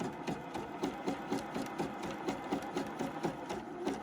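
A Juki F600 sewing machine stitching 2 cm wide elastic, a steady close mechanical whir with regular rapid needle beats throughout, fairly quiet and with no talking.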